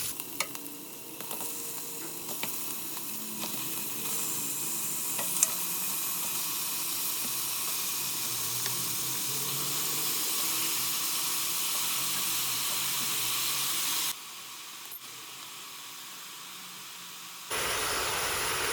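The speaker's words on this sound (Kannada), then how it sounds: "ಮಟನ್ ಜೊತೆ ಉಪ್ಪು ಅರಿಶಿನ ಸೇರಿಸಿ ಫ್ರೈ ಮಾಡ್ಕೊಳ್ತಾ ಇದ್ದೀನಿ" Mutton pieces frying with salt and turmeric in a pressure cooker, a continuous loud hiss and sizzle close by, with occasional faint stirring clicks, no talking.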